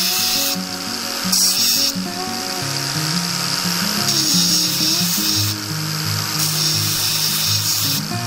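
A power saw cuts a piece of wood in a joinery workshop, a sustained whining, grinding tone shifting in pitch across several close, loud passes.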